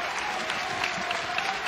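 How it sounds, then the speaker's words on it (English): Teammates in a college baseball dugout clap their hands in support at an NCAA tournament game, North Carolina against Tennessee; steady, dense clapping and crowd noise at moderate level, with no talk. "Hands clapped together"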